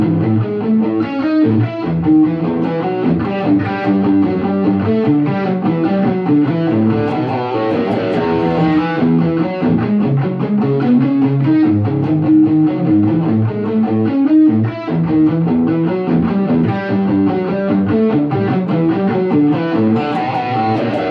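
A distorted electric guitar plays a fast, busy riff, loud and continuous with dense, driving notes and no break throughout.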